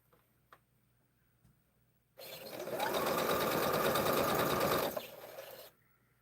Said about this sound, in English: I'll get this one sewed together